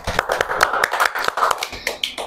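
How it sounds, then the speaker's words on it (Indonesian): A small classroom group claps for a student after her presentation, with scattered, uneven hand claps and sharp individual taps close by. "Beri tepuk tangan untuk Mbak Rena."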